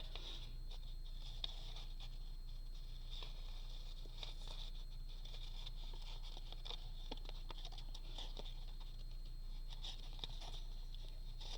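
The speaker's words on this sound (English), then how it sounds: "it's an old rainy day outside" Steady, soft rain patters outdoors on a wet November day, a quiet, even wash of tiny drops with no break and no voices, over a faint low hum.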